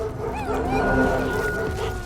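Dogs howling and whimpering as a sound effect in an audio drama, a short run of close, wavering canine cries layered over a dense background bed.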